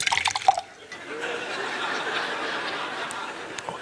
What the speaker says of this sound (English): Can you hear little Noddy filling the sink with water?